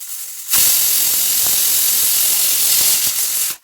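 Steam blasts from a pressure cooker whistle while rice cooks on a gas stove, a loud continuous hiss holding for about three seconds before cutting off, heard alone.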